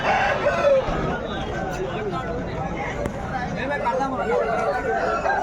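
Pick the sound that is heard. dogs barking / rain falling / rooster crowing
rooster crowing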